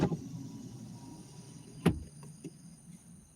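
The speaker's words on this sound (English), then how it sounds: "Frogs and crickets." Frogs and crickets calling at night, heard from inside a car, with a steady faint high insect drone over low engine rumble and a short sharp thump partway through.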